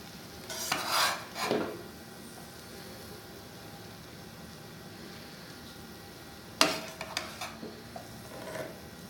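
Rice is stirred into chana yakhni pulao in a pot, two short bursts of scraping and rustling a few seconds apart over a quiet background, close and soft.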